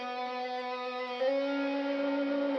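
Electric guitar notes held with vibrato, the pitch bent back and forth: a sustained tone with slight wavering, then a second note struck partway through that rings on steadily, clear and alone.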